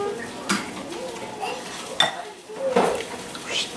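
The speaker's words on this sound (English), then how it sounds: "Crack your egg open, drop it in." Clinks and taps of cookware and utensils come as a few sharp knocks, consistent with an egg cracked and dropped into a pan among vegetables, over a faint sizzle in a home kitchen.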